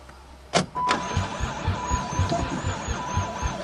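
An old van that has sat unused for years, its engine cranking in a rapid rhythmic churn after a couple of sharp clicks, loud and close, with rough firing under the cranking.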